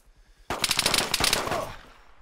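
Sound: gunfire in video game Arma 3

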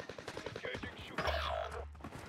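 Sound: MG7 machine gun firing in a video game

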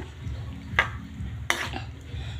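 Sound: stirring potatoes into the masala in a pan

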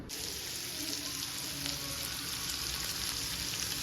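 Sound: chopped onion frying on a hot pan

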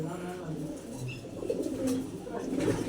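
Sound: pigeons cooing

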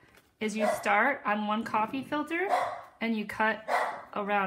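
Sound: dogs barking

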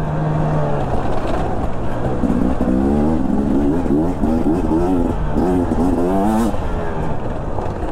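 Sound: Beta 250 RR two-stroke enduro motorcycle riding

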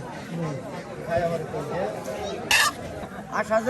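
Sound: chickens clucking at rural village market

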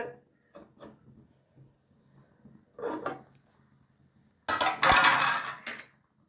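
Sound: opening lid of boiling soup pot

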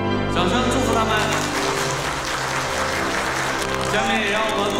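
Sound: wedding guests applauding

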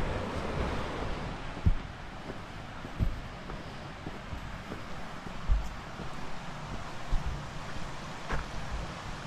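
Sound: river flowing

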